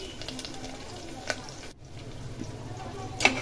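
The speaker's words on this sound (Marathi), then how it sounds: "जिऱ्याची छान फोडणी बसली तडतडली की आपल्याला त्याच्यामध्ये कढीपत्ता टाकायचा आहे" Cumin seeds crackle in hot oil during tempering for moong dal khichdi, giving a low steady sizzle with scattered small pops and one sharper crackle near the end.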